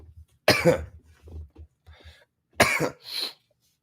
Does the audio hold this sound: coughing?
yes